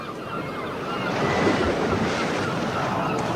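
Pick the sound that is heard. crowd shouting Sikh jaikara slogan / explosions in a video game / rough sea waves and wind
rough sea waves and wind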